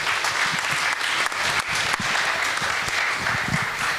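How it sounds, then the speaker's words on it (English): Audience applause at a proptech startup pitch competition, a steady dense round of clapping filling the space for about four seconds with no talk over it. "Big applause."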